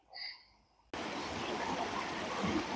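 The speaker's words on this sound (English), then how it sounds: "I don't know if you can even hear me over the sound of these waterfall." After a brief quiet moment with a faint tone, loud continuous rushing water from a creek waterfall starts abruptly and fills the rest, steady and broadband like a nearby cascade.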